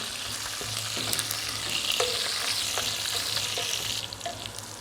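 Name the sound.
garlic, curry leaves, rampe and chillies frying in oil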